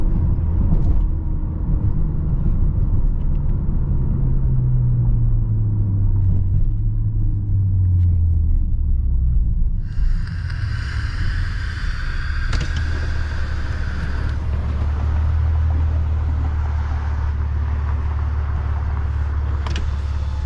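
A 2014 Honda Accord Coupe V6 cruises along with a steady low engine rumble and road noise from inside the cabin, pitch shifting slightly as speed changes.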